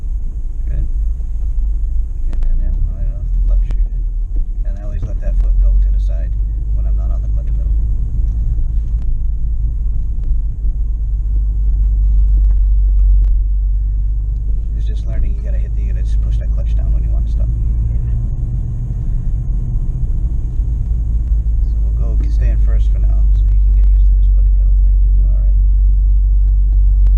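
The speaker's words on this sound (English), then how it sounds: "Listen to that engine." Car engine running steadily while a manual-transmission car is driven slowly, a low continuous rumble under a man's calm instructions to a young learner driver.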